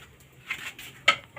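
Dishes being washed in a kitchen sink, with a few faint, brief clinks of crockery and cutlery against a quiet background.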